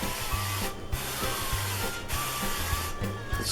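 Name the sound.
cooking spray greasing a cookie sheet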